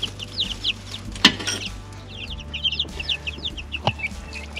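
Chickens clucking and making short chirpy calls while pecking at scattered grain, several birds close by with one sharper squawk among the soft, irregular clucks.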